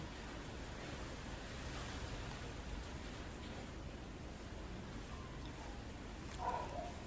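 Steady, rushing wind noise buffeting the microphone, fairly quiet and constant throughout, with a faint brief rustle near the end.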